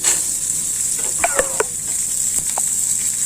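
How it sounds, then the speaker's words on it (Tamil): Urad dal, coconut and onion roasting together in a pan, a thin steady sizzle with a few sharp scraping clinks of a spoon against the pan, close and without speech. "எல்லாத்தையும் போட்டு ஒன்றா வறுத்துடலாம்"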